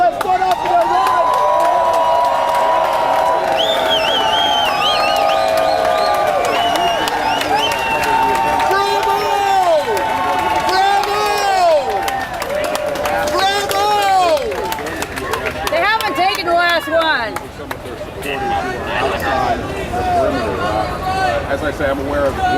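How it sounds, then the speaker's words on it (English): A crowd at the 1999 WTO protests claps and cheers, with many shouting and chanting voices swelling and fading over scattered clapping, loud and close throughout. "Let's give it a great applause to the people that stood up for their rights."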